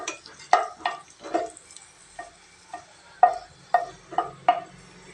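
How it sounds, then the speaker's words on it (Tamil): Mustard seeds splutter in hot oil with dried red chillies while cooking a drumstick-leaf and egg dish. Sharp, scattered pops crackle at an irregular pace against a quiet background, close but fairly soft. "கடுகு பொரிஞ்சிடுச்சுங்க."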